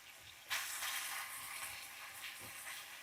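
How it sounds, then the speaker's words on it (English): Ground beef frying in a pan while being broken into pieces: a steady, faint, hissing sizzle that swells slightly as the meat is stirred, heard alone without voices. "just continue to cook until you don't see any pink in your ground beef"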